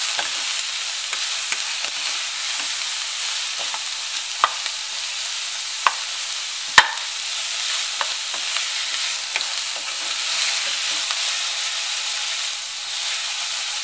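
Bitter melon fries in hot oil with garlic, giving a steady, close sizzle throughout, broken now and then by light clicks and taps as it is stirred.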